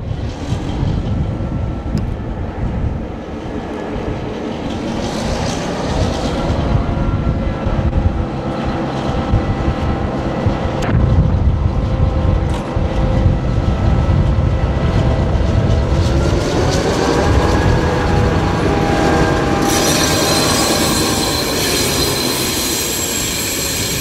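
A vintage MY diesel locomotive heritage train runs through Jutland, Denmark, a loud, continuous close rumble of engine and wheels with rising squeals and a brighter hiss near the end, no voices.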